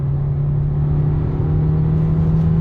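A KGM Actyon SUV engine drones loudly and steadily from close by under hard acceleration in normal mode, a low, constant rumble that holds a fairly even pitch throughout.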